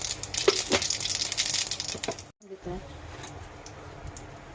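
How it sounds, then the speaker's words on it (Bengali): Cumin seeds hit hot oil in a cooking pan and give a bright, crackling sizzle for about two seconds, then drop to a quieter, steady fizz. "তেল গরম হয়ে গেছে দিয়ে দিলাম জিরা"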